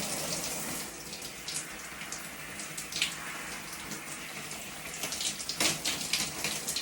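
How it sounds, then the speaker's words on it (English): Water running steadily from a tap or shower head while shampoo is rinsed out of hair, a soft continuous hiss and splash with occasional stronger splashes, no talking. "Let's rinse this off."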